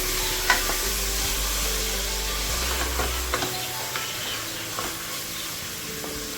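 Two Bangalore tomatoes sautéing in a pan give a steady, dense sizzle and hiss, with occasional soft stirring scrapes, close and continuous without speech.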